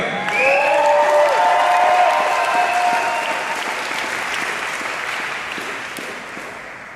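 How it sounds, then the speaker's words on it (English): A debate crowd at an Austin community college claps and cheers, with sharp whoops and whistles in the first seconds, then steady applause that gradually thins and fades toward the end. "Let me hear a sound of applause if you're ready."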